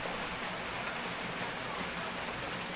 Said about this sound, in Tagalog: Maulan pa rin.